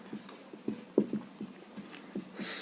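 Chalk or marker writing on a classroom board during a Class 10 science lesson on light, heard as faint, irregular taps and scratchy strokes spaced across the clip with no talking.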